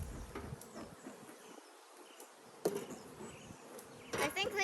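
Honeybees buzz around an opened hive during an inspection with a smoker, a soft continuous drone close by with individual bees whining past, and a few quiet voices and handling noises over it.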